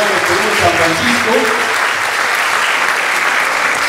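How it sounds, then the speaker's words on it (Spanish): An audience at a Peruvian song-and-dance event applauds strongly for the consul general, steady crowd clapping throughout while a voice speaks over the start. "Fuerte el aplauso para él"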